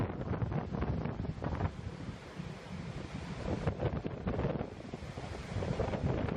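Rough North Sea waves surging around an offshore oil rig, with gusting wind buffeting the microphone, a constant roaring wash with rising and falling swells and no talk.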